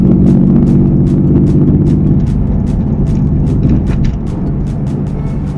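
A 1999 Porsche 911 Carrera with a 300 bhp engine runs steadily at close range, a loud, even, tinny mechanical drone with a faint rhythmic ticking on top and no speech.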